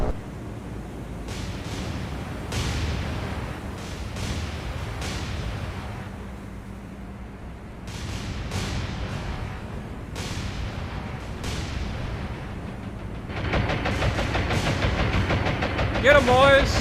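Naval gunfire in the War on the Sea video game, a string of booming shots and rumbling blasts spread over a continuous engine-like drone, growing denser toward the end, with someone talking throughout.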